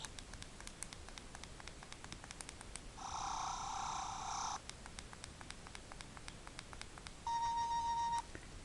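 Sonic screwdriver toy giving out electronic sound effects: two separate warbling, beeping tone bursts, the first about a second and a half long and the second shorter, over faint background hiss.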